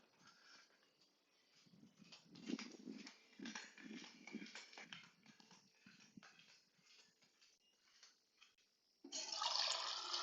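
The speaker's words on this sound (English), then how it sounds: "I'm just gonna top up some water." Water is poured to top up a drink, a faint, quiet trickle with soft scattered handling sounds, then a brief louder splashing pour near the end.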